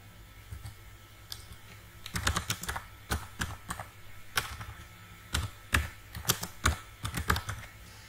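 Keys clatter on a computer keyboard as an HTML form placeholder is typed, in irregular bursts of sharp clicks up close, with no talking.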